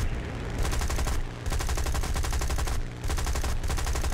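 Continuous rapid-fire aircraft cannon and machine-gun bursts in War Thunder, dense and loud, broken by two brief pauses between long streams of shots over a steady engine drone.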